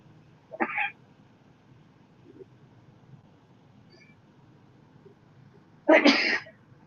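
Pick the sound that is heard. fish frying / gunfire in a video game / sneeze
sneeze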